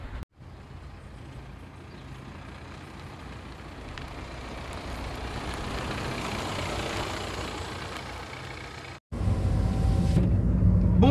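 A BMW E90 LCI on a road test drive gives a steady cabin road and engine rumble that swells gradually, cuts out briefly, and then returns louder.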